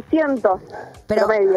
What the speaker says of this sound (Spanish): Perdón por los ladridos de mi perra.